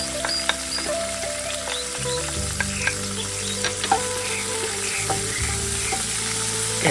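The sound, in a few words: dried chilies and mustard seeds frying in oil with curry leaves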